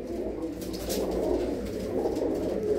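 Pigeons in a loft at Tangra village near Amritsar coo softly and steadily in a low, continuous murmur close by.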